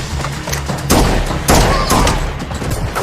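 Rapid AR-15 rifle gunfire in an action film scene, sharp bursts of shots at about one and one-and-a-half seconds over a busy soundtrack of music and effects.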